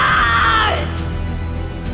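A woman gives a single high, piercing scream that slides downward and fades into a low, steady background drone.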